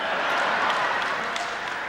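Dense applause from a large crowd, a steady wash of many hands clapping at once, loud and sustained throughout.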